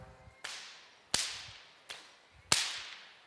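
Whip flicked lightly during horse desensitization training: four sharp cracks at roughly even spacing, each snapping clearly and trailing off quickly, with the later ones slightly louder, and no voice.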